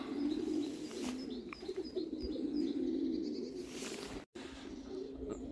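Racing pigeons coo inside a loft, a steady low murmur of overlapping calls with a few faint chirps above, close and continuous with a brief break near the end.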